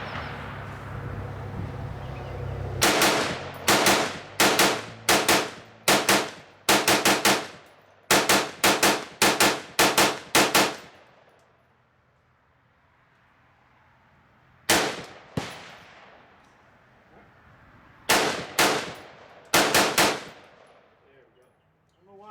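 An AR-15 rifle fired outdoors in rapid clusters of sharp, loud cracks, several quick bursts of shots separated by short pauses, with a quieter gap before final groups of shots.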